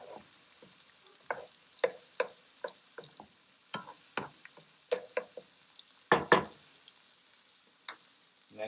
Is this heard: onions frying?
yes